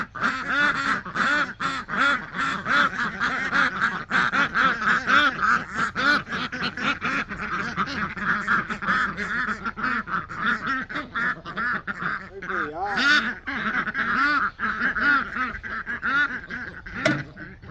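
Ducks quack loudly and continuously on a small farm, many overlapping calls close by with no pause.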